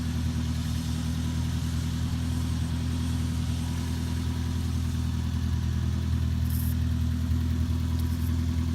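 A 1974 BMW 2002 with an automatic transmission drives along, its engine giving a steady mid-pitched drone with a constant low rumble and no obvious shifts, close and even from start to finish.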